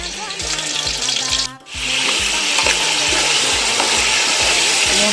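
Fish sizzles loudly in clarified butter in a pot, a dense, close frying crackle that briefly drops out, then surges back fuller and keeps going.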